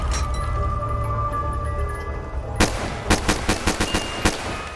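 Rapid bursts of submachine gun fire from Call of Duty: Black Ops III, with a steady stream of sharp, evenly spaced shots over background game ambience, loud and close.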